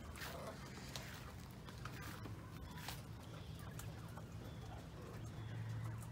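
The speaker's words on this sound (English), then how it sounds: "I have a chicken back there that literally sounds like a puppy whining." A backyard chicken gives a whining, puppy-like call among other bird clucks and coos, moderately near, set against a steady low background hum with no talk.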